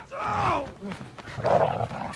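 A dog growls and barks close by at floor level, two loud vocal bursts separated by a short pause, with voices mixed in.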